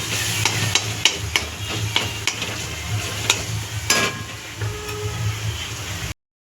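Masala for sukha chicken frying in oil in a pan, a continuous close sizzle punctuated by regular sharp taps and scrapes of a stirring spoon against the pan, ending abruptly, no voices.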